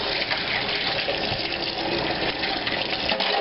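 Running water from a tap pours over shrimp packed in ice in a kitchen sink, a steady close splashing gush that lasts throughout with no talking.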